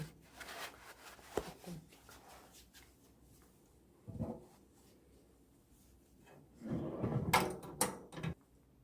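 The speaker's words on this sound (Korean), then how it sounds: "서랍 열기 버튼을 누르고 열린 서랍에서 물건을 수령하세요" A hotel delivery robot's drawer slides open and shut: soft rubbing and scraping early, a brief knock near the middle, then a louder burst of sliding and a firm thud near the end, with no one talking.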